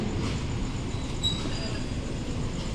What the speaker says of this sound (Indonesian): Jalur 3 dari arah utara akan segera masuk kereta api Purwojaya.